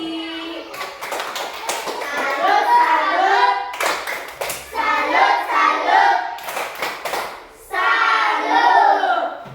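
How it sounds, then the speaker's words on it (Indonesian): A group of children claps a rhythmic cheer in a classroom lesson, the quick, bright claps overlapping in a lively, sustained patter with a short pause between rounds. "tepuk salut untuk diri sendiri"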